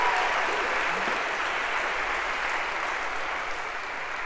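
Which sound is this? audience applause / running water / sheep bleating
audience applause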